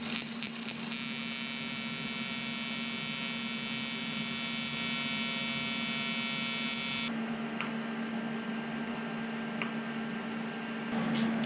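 TIG welding on aluminium turbo piping for a JZX100, an electric arc giving a steady buzzing hum with a bright hiss for several seconds that then cuts out, leaving a quieter background hum with faint clicks, close and without talking.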